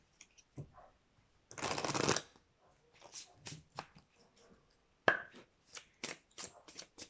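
Ascended Masters oracle cards are shuffled in a quiet room, giving one long dense riffling burst followed by scattered soft taps and flicks as the cards are handled and laid out, with no talking.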